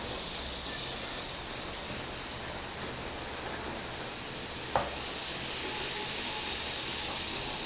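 Neyyappam, a sweet, frying in oil over a low flame: a steady, even sizzling hiss that runs unbroken throughout, with one faint click partway through.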